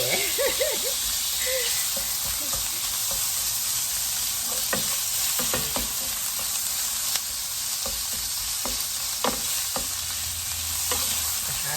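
Minced pork stir-frying in sesame oil: a steady, close hiss of sizzling fat runs throughout, broken by sharp clacks of a spatula scraping and tossing the meat, with no talk.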